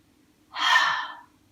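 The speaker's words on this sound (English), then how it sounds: "Feel that sense of expansion as you breathe in." A single deep inhalation during a yoga session, a soft airy breath lasting under a second, close and isolated against near silence.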